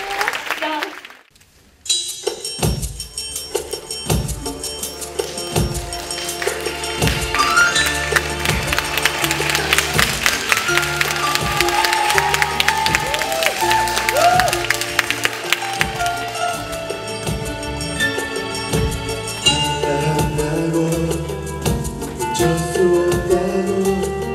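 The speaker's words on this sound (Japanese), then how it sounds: "皆さん温かい拍手でお送りください。" An audience at a Korean song contest's Tokyo preliminary round breaks into sustained warm applause after a brief pause, clapping steadily for many seconds with music playing underneath.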